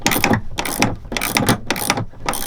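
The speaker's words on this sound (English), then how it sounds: "if you got a weird place that you can't reach with a ratchet or like a ratcheting wrench, then you just use this thing." Rapid bursts of clicking from a ratcheting hand tool turning rusty old bolts on a Nissan 240 driveway project, five quick rhythmic ratchet runs close up with no talking.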